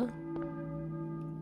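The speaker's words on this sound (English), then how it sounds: "I hear a church bell, maybe? Who is ringing the bell?" In the video game Silent Hill, a church bell tolls once, its resonant tone lingering and slowly decaying, with a faint secondary strike audible through the ringing.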